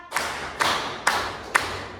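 A class of seventh graders claps in unison in a counted school routine: four sharp, evenly spaced group claps, each a crisp burst with a short tail, loud and close with no talk between.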